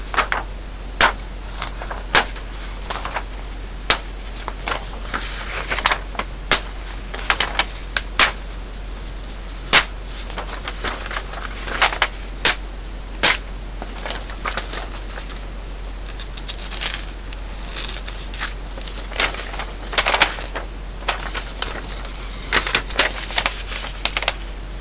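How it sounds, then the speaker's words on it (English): A Mora 510 MG bushcraft knife, shaving sharp from the box, slices through paper in a long series of crisp, close cutting strokes with irregular rhythm, and no voices are heard. "I'll be very, very surprised if it doesn't just slice through this paper"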